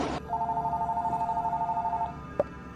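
A telephone rings in a horror video game (Fears to Fathom), a steady repeating electronic trill that runs for about two seconds after a short burst of noise, followed by a single faint click.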